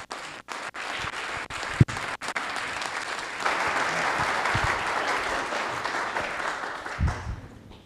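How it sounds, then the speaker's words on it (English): An audience at a venture plan competition finals breaks into applause, starting with a few sharp separate claps, then swelling into sustained clapping from a sizable crowd that tapers off at the end. "So let's give them a round of applause."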